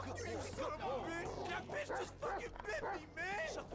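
Barking and yipping from a dog in the video game GTA 5, a run of short repeated barks under a man's overlapping speech and game background noise.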